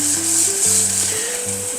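Tomato sauce sizzles in a pan while being stirred, a loud, close, steady frying hiss with faint tonal hum underneath and no speech.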